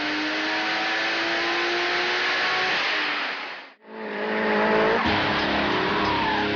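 Cars drifting at a drift demonstration run by top Queensland drivers, with loud sustained engine roar and tire squeal, a sharp dropout near the middle before a second car screams past.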